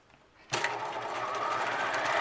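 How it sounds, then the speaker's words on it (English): Sewing machine stitching a cloth mask cover runs steadily at close range, starting abruptly after a brief quiet moment and holding a continuous whirring drone to the end. "Keep sewing. All the way to the corner."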